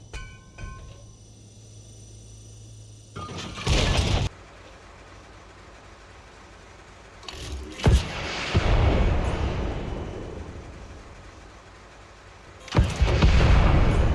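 A tank cannon fires in World of Tanks, a Leopard 2A4 shot: several loud, sharp booms with rumbling tails break out over a quieter game backdrop, with the heaviest blasts near the start, middle and end.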